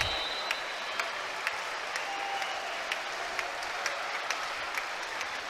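A volleyball crowd in a college field house cheers and applauds, a dense sustained roar of clapping with sharp individual claps standing out, with no voices over it.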